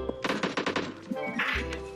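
A rapid burst of gunfire in PUBG Mobile, a quick run of sharp shots close by followed by a couple of scattered shots.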